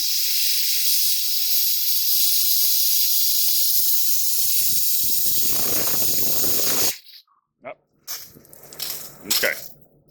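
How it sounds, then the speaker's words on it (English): A water line purging air, a loud sustained close hiss of escaping air and spray for several seconds, then sputtering bursts with water as the flow breaks up. "So you see it's spraying out now. We've got most of the air out of the system."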